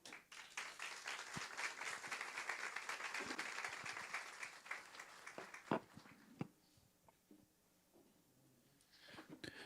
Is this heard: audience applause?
yes